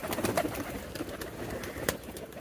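Peshawari pigeons cooing softly in a series of low, throaty coos against a faint background hum, with no talking.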